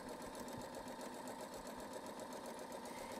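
Sewing machine running steadily as it stitches a quarter-inch seam along heavy jeans denim, a continuous close mechanical hum with a fast even rhythm and no talking.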